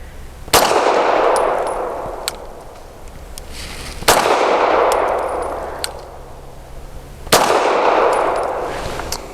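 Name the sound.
Sig M17 X Change pistol gunshots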